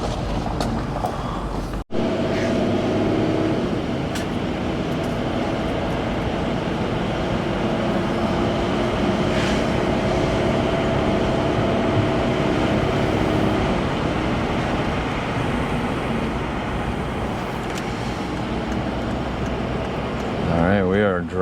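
Mercedes AMG coupe on its first drive since 2009, steady broadband road and engine rumble carrying through the whole stretch with a sharp knock early on, while people talk inside the car.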